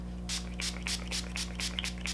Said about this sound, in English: I'm going to go ahead and spray with the rose spray again, just to kind of get that powdery cast off.